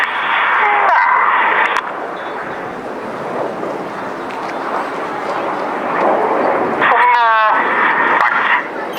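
Red Arrows jets performing an airshow display roar steadily overhead, a broad sustained rush with wind buffeting the microphone and a commentator talking over it.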